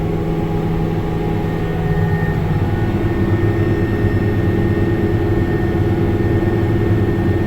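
A heavy tractor engine drones steadily at maximum revs while climbing a hill, loud and close, its deep rumble building slightly after the first couple of seconds and holding constant.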